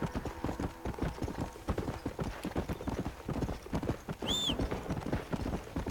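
Horse hooves clip-clopping steadily at a brisk trot in the video game Red Dead Redemption, close and continuous, with a brief whistle-like tone partway through.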